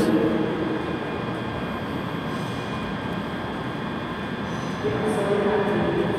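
A ScotRail Class 385 electric train at Glasgow Queen Street station, a continuous loud rumbling roar of the unit moving close by with a higher whine near the end.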